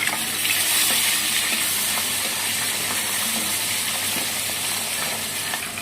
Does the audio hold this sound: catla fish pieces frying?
yes